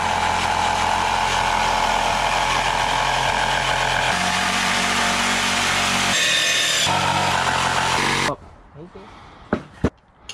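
A loud power saw grinds steadily through wood during a 14-foot panga boat build for about eight seconds, then cuts out, leaving a few sharp knocks and clatters.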